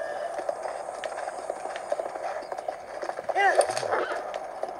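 A horse gallops in The Legend of Zelda: Breath of the Wild, its hooves making a steady, fast clip-clop rhythm under game ambience, with a brief whinny-like swell near the end.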